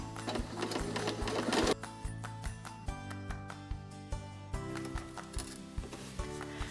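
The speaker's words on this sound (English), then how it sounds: "fold it in half and stitch from one end all the way to the other" A sewing machine stitches a fabric tube, the needle thumping in an even rapid rhythm with steady motor whine. It is close and fairly quiet, with no talking.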